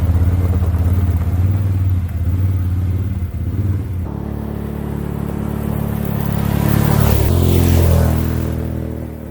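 A 2023 Can-Am Outlander XT850 ATV rides along a trail with its engine droning close by, then revving and accelerating harder before easing off, with no voices.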